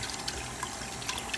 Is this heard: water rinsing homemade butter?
yes